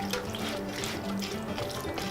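Water runs steadily from a kitchen tap into a container, a continuous splashing rush with dripping texture, close and fairly loud throughout.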